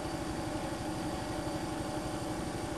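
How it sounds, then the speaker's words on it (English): Bowling lane buffer running steadily at its high speed setting of about 720 RPM, a continuous, even mechanical drone with a constant hum and no pauses. "we arrive at our third buffing speed, which is high speed"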